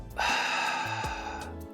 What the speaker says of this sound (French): on va inspirer complètement par le nez, donc full in